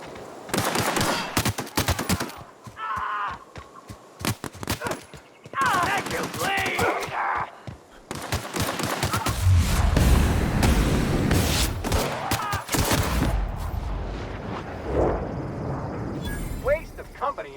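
Gunfire in The Outer Worlds: repeated bursts of shots in clusters with rapid automatic fire and heavy booming impacts, loud and close, building into a sustained barrage near the middle before thinning out.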